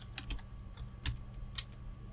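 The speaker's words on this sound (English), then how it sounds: "As soon as I start typing" Keys tapped on a computer keyboard attached to a slow, unresponsive Windows PC, a few sparse, irregular clicks close by over a low steady hum.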